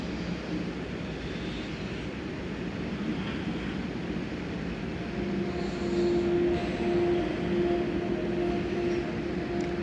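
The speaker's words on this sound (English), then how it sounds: "The plane takes off with rough speed." Steady, loud engine roar of a plane taking off in a Roblox plane simulator game, continuous and building slightly toward the end.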